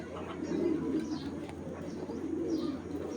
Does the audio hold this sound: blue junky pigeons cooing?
yes